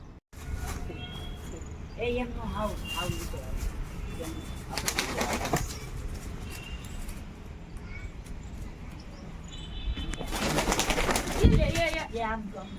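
Pigeons coo softly in repeated low, throaty phrases, with a few louder bursts of cooing and wing activity near the end. Faint voices and ambient outdoor noise sit in the background.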